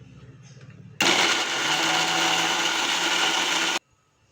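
A mixer grinder blends spicy roadside-style tomato chutney, starting abruptly with a loud, steady whirring roar that holds for about three seconds and then cuts off sharply, with quiet room sound before and after.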